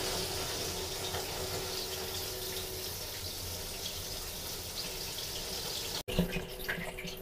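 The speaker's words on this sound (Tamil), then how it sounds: "இதில் இருந்து தண்ணி வந்து நமக்கு டப் வந்து ஹாட் வாட்டரில் ஃபில் ஆகும்" Hot water pouring steadily from a tap into a Japanese bathtub, a continuous close splashing rush that runs alone for about six seconds before a brief break and a quieter spell.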